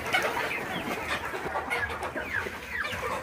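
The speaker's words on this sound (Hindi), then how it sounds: "देखिए यहाँ पे इस बाड़े में कैरी, निर्भीक और ब्लैक एस्ट्रोलार्ब के चूजे पड़े हुए हैं।" Chicks of Kadaknath, Nirbheek (Aseel type) and Black Australorp breeds in a desi poultry pen, cheeping and clucking steadily in a dense overlapping chorus, close and moderately loud with no talking.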